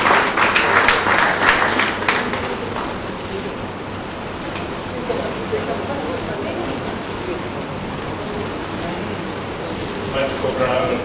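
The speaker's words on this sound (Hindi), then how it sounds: "जोरदार तालियां।" Loud audience applause at a Hindi poetry gathering in a hall, a dense continuous wash of clapping that swells at first, eases, then rises again near the end.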